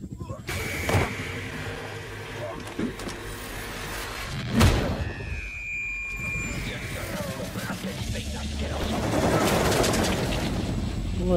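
Gunfire aimed at a helicopter in the shooter game Wolfenstein The New Order, with scattered shots and one sharp blast over a constant rumbling mechanical drone.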